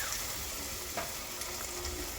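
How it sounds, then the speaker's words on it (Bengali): Potato chops (aloo chop) fry in hot oil for an iftar meal, giving a steady, dense sizzle and crackle that runs the whole time without any talking. "তো এখন আমি আলুর চপগুলো ভাজবো।"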